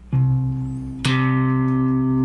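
Two sustained low bass guitar notes an octave apart, played one after the other, each plucked cleanly and left ringing, the second pitched higher, with no voices.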